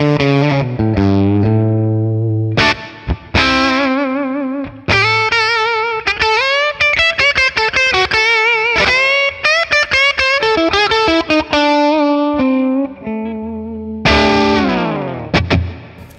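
A Les Paul electric guitar runs through a 1964 Selmer Treble n Bass 50 valve amp set for crunch, loud and close. It plays sustained distorted chords and note runs with ringing harmonics and brief gaps between phrases.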